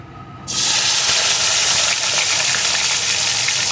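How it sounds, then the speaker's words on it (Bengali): Potato pieces drop into hot oil with fried tempering spices and break into a loud, steady sizzle that continues unbroken to the end. "ফোড়নটা ভেজে নিয়ে এর ভিতরে আমি দিয়ে দেবো টুকরো করে কেটে রাখা আলু"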